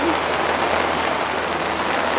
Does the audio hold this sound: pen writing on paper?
no